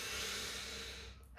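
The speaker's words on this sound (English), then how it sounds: "deep breath in and out" A single long, deep exhale of breath close to the listener, steady and breathy for over a second before it trails off, during a calming tapping exercise.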